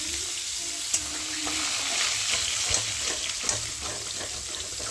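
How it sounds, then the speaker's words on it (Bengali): Spiny gourd and bitter gourd fry in a pan with a loud, continuous hiss and crackle and an occasional stirring clink, close and without talk. "এখানে কাঁকরোল ভাজা করছি, উচ্ছে ভাজা করছি।"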